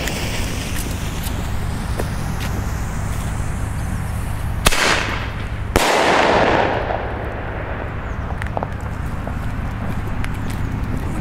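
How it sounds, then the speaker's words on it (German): A Titanium King firecracker set off during New Year's Eve celebrations: a loud, sharp bang, then a second close, powerful blast that trails off in a hissing, echoing decay over steady outdoor background noise. "Erst den Titanium King."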